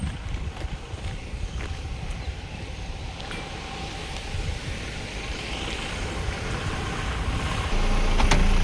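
A vehicle rolls slowly along a road behind people walking on foot, with a steady low engine rumble and road noise that grows gradually louder and nearer toward the end.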